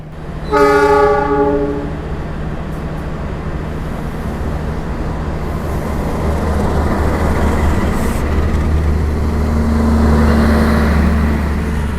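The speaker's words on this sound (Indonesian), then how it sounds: "Dan ini persiapan kereta api Gajayana akan diberangkatkan kembali menuju ke stasiun Jakarta Kota ya" The Gajayana passenger train sounds a long, loud horn blast at the start, then its engine rumbles steadily as it prepares to depart from a station, with a low drone building toward the end.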